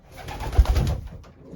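Young racing pigeons coo softly in a loft, a steady murmur of low throaty calls that swells briefly in the middle and then fades, with no talking.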